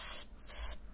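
An airbrush sprays paint onto a T-shirt in two close, steady hissing bursts separated by a short pause, with no talking.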